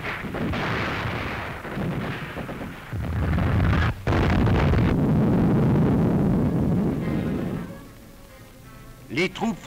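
Artillery cannon barrage from a wartime newsreel, with heavy booming fire and rolling rumble filling most of the clip at close range, one sharp gap near the middle, and the sound fading out toward the end.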